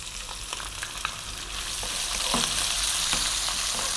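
A cup of chopped onion hitting hot oil with cumin seeds over fairly high heat, a dense bright sizzle that swells and holds steady, with a few faint stirring taps.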